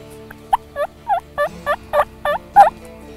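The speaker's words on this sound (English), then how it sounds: "I see another turkey. More gobblers." A wild turkey gobbles repeatedly in Georgia, eight or so sharp rattling calls in quick succession, fairly close and clear against a quiet background.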